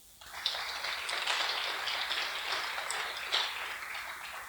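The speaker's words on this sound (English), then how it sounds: "I'd just like, before we start, to ask you to give them a round of applause for giving their time." Audience applause for panel members at an evening panel discussion, a dense steady clatter of many hands clapping that starts abruptly and holds for several seconds without talk.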